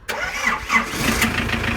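An old heater-type engine in a modified jeep cranks briefly and then catches, settling into a loud, close, steady idle rumble.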